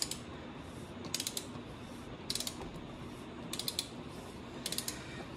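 A torque wrench ratchets as it tightens the oil drain plug on a Porsche 911 Carrera S 991.2, in short bursts of sharp, fast clicks repeated about five times, close and crisp over a low background hum.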